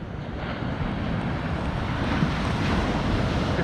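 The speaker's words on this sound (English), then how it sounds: "So this is Hornsea. It's a lovely beach." Surf breaking on the beach at Hornsea, a steady close wash of waves mixed with gusty wind noise across the microphone, continuous for the whole stretch with no one talking.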